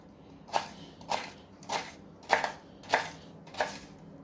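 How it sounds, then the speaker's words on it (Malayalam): A knife chops ingredients for a traditional homemade pickle into small pieces, six crisp, evenly spaced strokes about half a second apart, close and clear with no talking. "അതുപോലെ ചെറുതായി ചെറുതായി വെട്ടിയെടുക്കാം."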